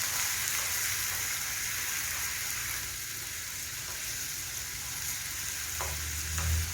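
Meat and bracken stir-fry in a pan for bibimbap with a steady, close sizzle throughout and a few light clinks of a utensil near the end.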